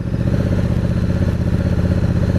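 Honda CRF1000 Africa Twin DCT motorcycle on the move, its engine giving a loud, steady, throbbing drone close by with no talking.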